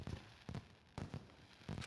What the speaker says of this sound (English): Looks like they're fireworks.